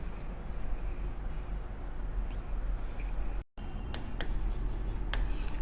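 Pen scratching steadily on paper as lecture notes on proteins are copied down, a soft continuous scribble with a brief gap, then lighter strokes and a few faint taps, quiet and close.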